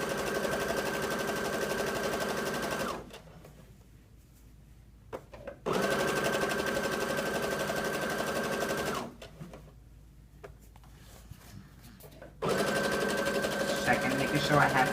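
A sewing machine runs a 5/8 inch seam in two long, steady bursts of rapid stitching, each stopping and restarting after a quiet pause, loud and close, with a third run beginning at the end.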